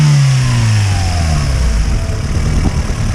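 A rebuilt, tuned Honda B20V car engine runs close by outdoors on a chilly day, revving briefly and then settling toward a loud, steady idle with a low, throaty hum and no voices.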